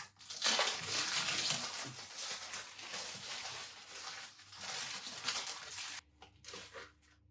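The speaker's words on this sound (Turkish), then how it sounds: "Şimdi bu jiletin kağıdını açalım." Paper wrapping is peeled and torn off the blade of a new Fakir Coffee Mine coffee machine, a continuous close crinkling and tearing that fades briefly near the end.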